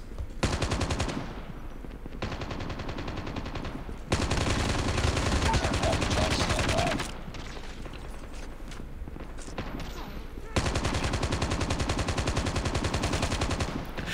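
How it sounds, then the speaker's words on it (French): Rapid automatic gunfire from the mobile shooter game Call of Duty Mobile, loud sustained bursts of machine-gun fire with brief pauses between volleys, no talk over it. "Je suis en train de gâcher mes balles"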